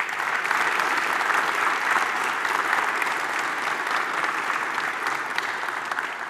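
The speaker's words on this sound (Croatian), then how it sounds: "a molit ću da ga pozdravite velikim pljeskom" At the Miss Universe Croatia 2022 final, a large audience gives loud, sustained applause to greet a jury member, with dense clapping holding steady from start to finish.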